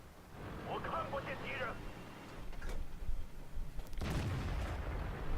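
Tank cannon fire in World of Tanks, a Type 59 and Firefly match, arriving as a few sharp booms with broadband bursts near the end, heard under steady commentary speech.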